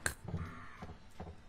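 A crow caws a few times in the horror video game Home Sweet Home, sharp harsh calls spaced apart over a faint background.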